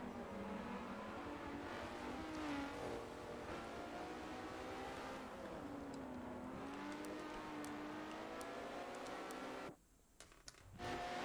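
An Aston Martin GT race car in a racing video game drones and revs steadily, with rising and falling engine pitch as it pushes to overtake, fairly faint and continuous, briefly dropping near the end.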